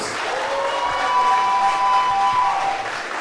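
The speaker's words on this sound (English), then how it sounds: "Give him a round of applause." A crowd applauds and cheers at a wrestling benefit show, loud sustained clapping with a rising cheer and whistles carrying through the middle before easing off.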